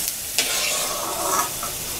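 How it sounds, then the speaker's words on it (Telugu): Peanuts frying in hot oil in a pan, a steady close sizzle with a couple of brief stirring scrapes, no voices. "ఆయిల్ వేసుకొని వేడెక్కినాక పల్లీలు వేయించి పక్కన ఉంచుకోవాలి"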